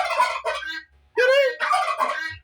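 A male turkey on a poultry farm gobbles in reaction to noise: two loud, close, rapid warbling bursts separated by a brief pause, with no talk.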